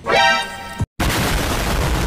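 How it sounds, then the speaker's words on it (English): A grenade explosion in the Apex Legends video game: a rising whooshing tone cuts to a brief silence, then a loud, broad, sustained blast roars up close. "As I heal from the nuclear explosion I just experienced"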